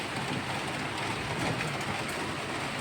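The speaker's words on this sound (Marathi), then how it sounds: "तर भरपूर असा आता पाऊस जोराचा चालू झालेला आहे." Heavy monsoon rain falls steadily close by, a dense continuous broadband wash with no breaks and no voices.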